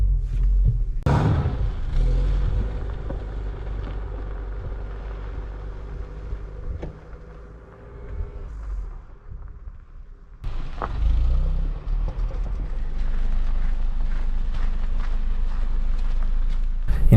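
A Dacia Duster 4x4 in first gear climbs a gentle slope, its engine a low, steady rumble that dips briefly midway and then resumes at full strength, with no voices over it.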